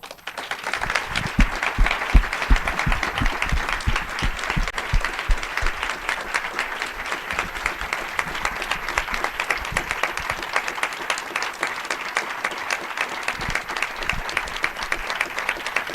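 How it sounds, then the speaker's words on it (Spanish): An audience in a cinema applauds at length, a dense, steady wash of many hands clapping, loud and sustained from start to finish with a few sharper individual claps near the beginning. "me da pena interrumpir el aplauso"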